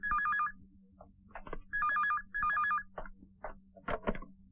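An old-style telephone rings in three electronic trilling bursts inside a house, with scattered clicks and knocks in between and no voices.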